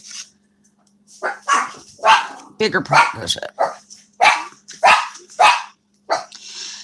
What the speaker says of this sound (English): And my dogs are going to bark because the garbage men just ran.